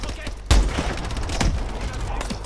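Suppressive gunfire in Call of Duty: Advanced Warfare, a loud close shot burst followed by scattered firing and crackling combat noise over a short stretch.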